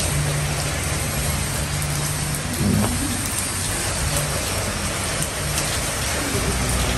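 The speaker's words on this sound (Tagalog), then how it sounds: "hindi naman tatagal ang ulan" Rain falls in a constant broad wash, moderately loud and steady, with a faint low hum and a brief thump near the middle, no voices.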